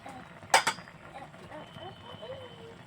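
A cooking-pot lid comes off with two quick metallic clinks close by, followed by quiet kitchen ambience and a faint voice in the background.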